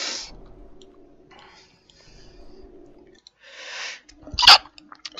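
A single loud sneeze bursts out near the end, after quiet breathy and clicking noises, from a person in a gaming voice chat.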